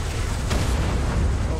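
Dynamite exploding in Fortnite Battle Royale, a dense rumbling blast that fills the whole moment with a sustained roar and a sharp crack partway through.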